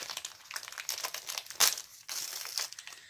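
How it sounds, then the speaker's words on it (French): Gift wrapping paper crinkling and tearing as washi tape is pulled off, with repeated close crackles and a sharper rip near the middle. "un washi qui déchire le papier"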